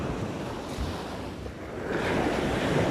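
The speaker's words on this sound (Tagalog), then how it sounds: "Kasi maalon. Kasi nga, habagat ngayon eh." Rough monsoon surf breaking along a shoreline near a cemetery, a steady broadband roar of waves with wind buffeting the microphone, swelling louder toward the end with no voices.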